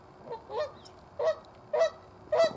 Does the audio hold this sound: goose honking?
yes